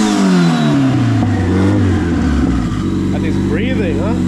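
A turbocharged Mazda Eunos Miata engine revs with its exhaust restrictor removed, the pitch sweeping down and climbing again in loud, close pulls, with a voice briefly audible underneath.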